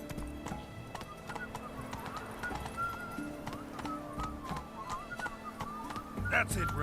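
Roach, Geralt's horse in the video game Witcher 3, gallops with rapid, close hoofbeats, snorts and a whinny near the end, while someone speaks over the hooves.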